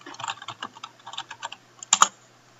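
Fingers type quickly on a computer keyboard while setting up a Java project, a close, steady patter of key clicks ending in two louder, sharper strokes like a firm press of the Enter key.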